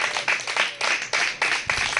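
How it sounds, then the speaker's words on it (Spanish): Church congregation claps in rhythmic bursts, several distinct waves of moderately loud applause rising and falling about twice a second, close and lively. "Denle un aplauso a Yahshua."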